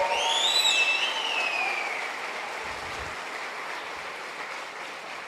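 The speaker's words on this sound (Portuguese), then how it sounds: "Pode aplaudir" An audience in a church applauds in a broad, steady wash of clapping that slowly fades, with a few whistles and cheers rising at the start.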